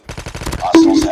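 Rapid burst of AK117 rifle gunfire in a shooter video game, about a dozen quick close shots in steady rhythm, followed by a brief tonal game sound effect.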